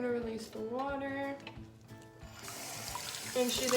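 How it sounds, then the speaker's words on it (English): Water runs from a tap to rinse a guinea pig being treated for ringworm, a soft splashing stream that swells in the second half while someone talks over it earlier on. "we're gonna release the water"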